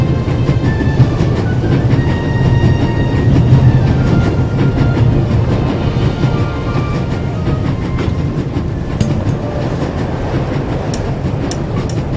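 Train wheels clatter along the rails in a video game set on an Alpine railway, a steady, loud rolling rumble with rhythmic clickety-clack beats continuing throughout, with no voices.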